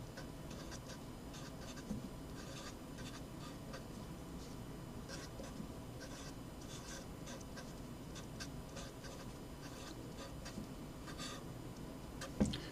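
Pen or marker writing out a differential equations solution, soft scratchy strokes in faint, steady bursts over a quiet room hiss, with no talking.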